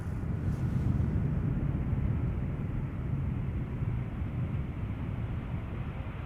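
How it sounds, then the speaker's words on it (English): A KLM Embraer 190 jet arriving at Schiphol Airport makes a steady, distant rumbling roar that holds at an even level without pause. "KLM flight 1166 arriving from Helsinki, Finland."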